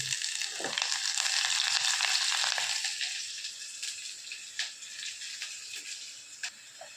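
Garlic sizzles in oil in a pan over a medium flame, a steady bright hiss that swells loudly for the first few seconds then settles lower, with scattered small crackles and pops.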